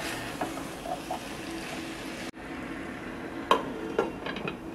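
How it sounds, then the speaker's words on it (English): Cauliflower masala curry stirred in a pan: soft, faint scraping and low sizzling close by, with a couple of light utensil taps toward the end and no voices. "Mix well and cook this for 5 minutes."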